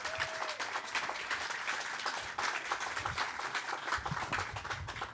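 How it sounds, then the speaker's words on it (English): Sustained applause from an audience at the grand opening of a community building, dense steady clapping filling the whole stretch, fairly close and loud, with no talk over it. "Let's give that a round of applause."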